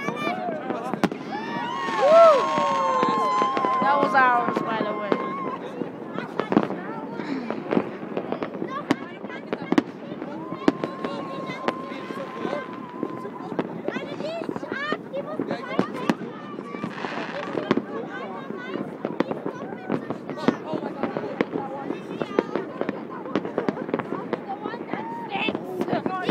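Fireworks exploding in a rapid, continuous string of sharp crackling pops and bangs, with whistling rockets rising and loud close bursts, while people talk and call out underneath.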